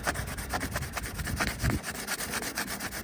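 A fiberglass repair area is hand sanded with coarse sandpaper, producing a rapid, rhythmic series of close, raspy back-and-forth scrubbing strokes that continue steadily throughout.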